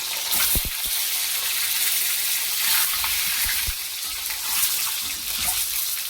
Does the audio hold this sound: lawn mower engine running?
no